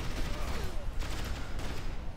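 Rapid gunfire from a guard tower in the strategy game Rise of the Reds, a dense continuous crackle of shots mixed with distant battle noise, loud throughout with no pauses.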